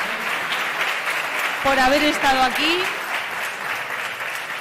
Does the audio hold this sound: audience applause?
yes